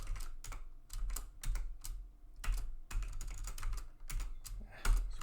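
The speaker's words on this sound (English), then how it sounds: "keyboard" Computer keyboard being typed on in quick, uneven bursts of clicky keystrokes with brief pauses, close and fairly quiet.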